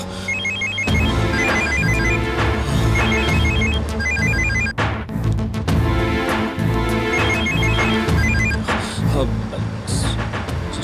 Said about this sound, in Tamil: நான் அவருக்கு ஃபோன் பண்ணி பார்க்கறேன்.